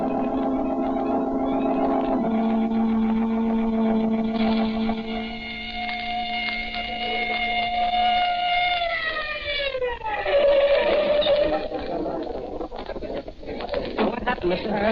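A police car siren sound effect wails in a radio drama, long sustained tones that slide downward partway through, with steady background noise beneath.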